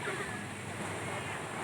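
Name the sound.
big sea waves at Lampuuk beach, Aceh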